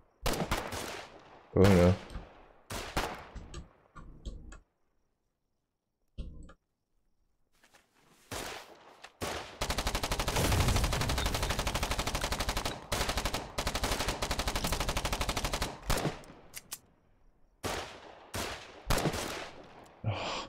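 Enemy soldiers fire on the player in the war game Foxhole: sustained rattling gunfire and heavy bursts, loud and close, with scattered single shots before and after, and a player's brief voice in the mix.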